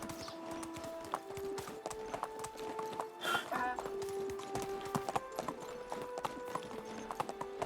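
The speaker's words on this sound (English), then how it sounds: "with the iron horseshoes, my donkey can almost make the entire trip from Piastovia to home" A donkey fitted with iron horseshoes walks in Medieval Dynasty, its hooves clip-clopping in a steady, fairly quiet rhythm with a brief whinny-like sound in the middle.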